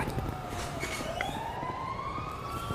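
A police car siren in the GTA V video game wails faintly in the distance, a thin rising tone over a low bed of game noise.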